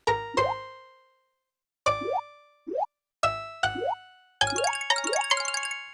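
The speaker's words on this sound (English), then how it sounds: "This is a well-expanded version of Mario and Luigi, featuring interesting MIDI sound effects." MIDI sound effects from the MS-DOS game Mario and Luigi play alone: a series of bright plopping, boinging blips with quick pitch slides, in short clusters separated by gaps, ending in a denser jingling burst.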